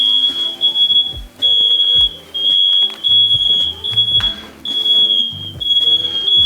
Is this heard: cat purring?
no